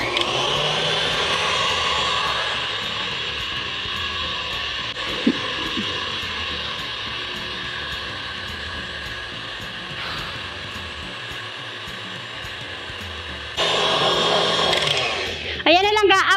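An electric mixer runs steadily at a constant whir while beating a four-ingredient chocolate frosting, a continuous motor drone that grows louder near the end before cutting off.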